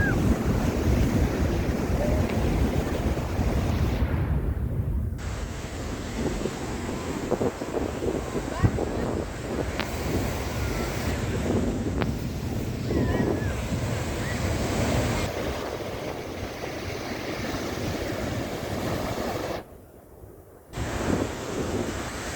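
Big ocean waves roll onto Dubai Marina's JBR beach under a cloudy sky, a continuous roar of surf with heavy wind buffeting the microphone and brief dropouts.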